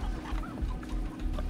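Chickens in the video game Far Cry 3 cluck in quick, irregular bursts over a dense game background, close and moderately loud throughout.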